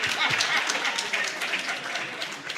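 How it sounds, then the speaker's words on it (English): A room full of people applauds representatives of a firm at a Jamaican book launch, steady dense clapping filling the whole moment with a faint voice or two mixed underneath. "Give a round of applause."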